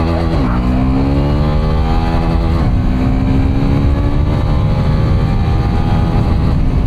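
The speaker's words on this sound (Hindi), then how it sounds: "पहले गियर को एंगेज करते हैं यहाँ पर एंड करते हैं बाइक को लॉन्च।" A Hero Xtreme 160R motorcycle launches in first gear in sports mode, its engine note climbing steeply, dipping at a quick upshift, then rising again under hard acceleration, loud and close with heavy wind rush throughout.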